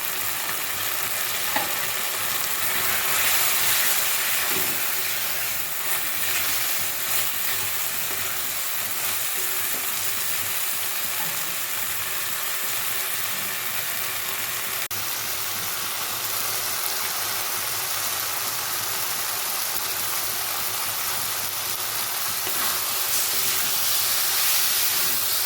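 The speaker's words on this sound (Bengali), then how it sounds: "এবার দেবো কেটে রাখা টমেটো।" Chopped tomatoes and green chillies fry in a cooked-down spice mix for an old-style Bengali brinjal dish, a long, even sizzle with faint steam hiss and occasional light stirring, and no talk.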